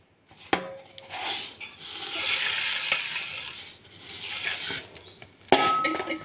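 Egg yolk being mixed into milk with sugar, a utensil scraping and clinking against a pot or bowl in steady stirring strokes, with a few sharper metallic taps, close by and with no talking.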